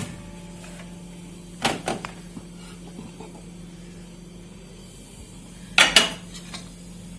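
A dish of roasted almonds is taken out of a microwave, with two sharp clattering bursts of dish and door knocks separated by a low steady hum, no talking.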